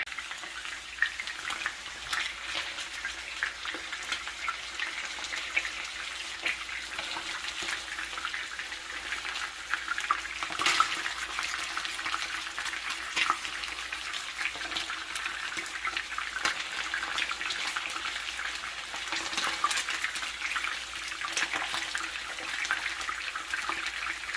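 Fish frying in a pan over a raised flame gives a steady, continuous sizzle and crackle that runs throughout without talk.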